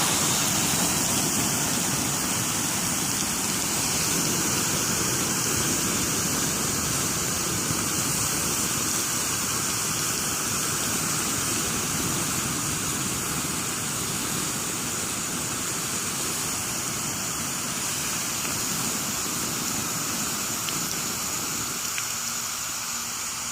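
Water poured onto a hot pile of biochar, a steady loud rushing hiss and sizzle that carries on unbroken for over twenty seconds, close by and alone.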